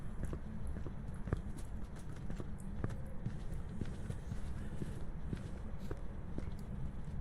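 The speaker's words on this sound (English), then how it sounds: "The footsteps, the ghost sounds, like footsteps, and when it starts its hunt, how you can hear it, are slightly muffled." Muffled ghost footsteps inside a house in a ghost-hunting video game, a steady run of soft, dull thuds repeating throughout against a dense low rumble, with no talking.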